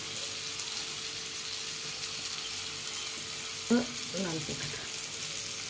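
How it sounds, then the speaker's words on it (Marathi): Onion roasts in a pan with a soft, steady sizzle and crackle that runs throughout, while a voice briefly speaks over it near the end. "असा कांदा खमांग भाजून घ्यायचा"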